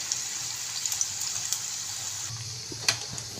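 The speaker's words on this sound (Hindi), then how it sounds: "अब मैं इसमें ये एक एक करके चिप्स जो है इस तरह से ऐड करूँगी ताकि ये ज़बरदस्त सी फ्राई हो" Potato skin chips frying in hot oil over a low flame: a steady, close sizzle with a bright hiss, broken by a few small pops and crackles.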